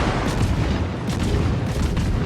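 Distant naval gunfire from an Alaska cruiser firing blind in World of Warships, heard as a continuous rumbling wash of booms with a few sharper salvos and no talk.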